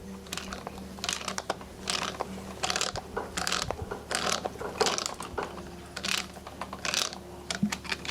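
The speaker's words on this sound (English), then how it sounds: "I'm turning it counterclockwise and it's getting some suction." A Sanden scroll compressor is turned by hand counterclockwise, giving a rhythmic run of clicking, ratcheting mechanical bursts about once a second, close and fairly loud, without speech.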